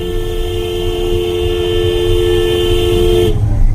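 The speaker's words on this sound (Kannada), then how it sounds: "ಇಲ್ಲಿ ಬಂದಾಗ ಒಂದು ಲಾಂಗ್ ಹಾರ್ನ್ ಬಿಟ್ರೆ ಹೀಗೆ" A long, steady car horn blares close by for about three seconds on a road near a house, over a low rumbling engine, then cuts off abruptly.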